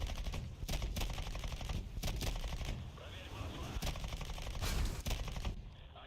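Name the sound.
tank cannons firing in the video game War Thunder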